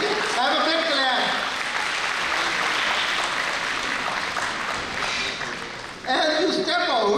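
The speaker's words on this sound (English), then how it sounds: "have a big clap." Audience at a medical college convocation breaking into a big round of clapping, dense sustained applause from many people, with a voice speaking over it at the start and again near the end.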